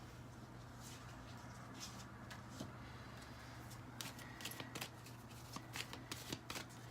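Tarot cards are shuffled by hand, quiet at first, then a run of crisp riffling flutters and taps near the end.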